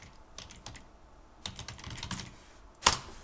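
Rapid bursts of keystrokes on a computer keyboard while entering a shortcut in UiPath Studio, clustered in short runs with a sharper final key press, close and clear with no talking.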